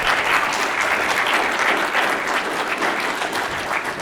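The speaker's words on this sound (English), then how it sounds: "If you can have another round of applause for our speakers today." Sustained applause from a seated audience thanking panel speakers at a human rights event, a dense steady wash of clapping for about four seconds with no speech.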